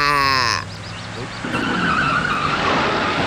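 A car's tyres skid and squeal loudly for about half a second, then give way to a steady engine rush and road noise, with voices talking over it.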